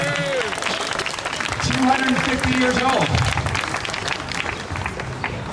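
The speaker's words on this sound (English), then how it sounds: "Round of applause." Crowd applause at an outdoor Memorial Day parade ceremony in Chappaqua, steady clapping from a large gathering that swells midway, with a speaker's amplified voice talking over it throughout.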